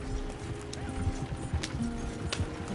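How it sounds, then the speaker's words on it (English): Horses gallop in Red Dead Redemption 2, their hooves beating a fast, steady clip-clop under the game's busy ambient backdrop, fairly close and continuous throughout. "Horses won't go this fast for long."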